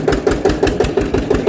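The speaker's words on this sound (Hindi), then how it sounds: "और अब चलाएंगे हम ट्रैक्टर और ऑटो पायलट मोड।" Tractor engine running with a rhythmic, knocking diesel-like chug, regular pulses about every fifth of a second, loud and close with no talk over it.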